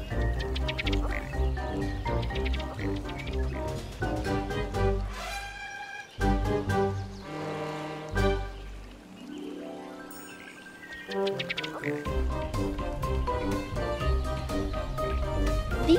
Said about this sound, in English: These noises formed by the churning water and the duck's own belch-like mating calls are common sounds at this time of year.